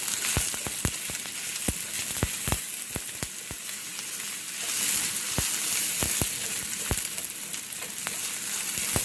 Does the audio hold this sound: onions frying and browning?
yes